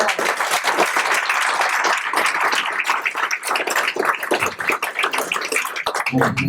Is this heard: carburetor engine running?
no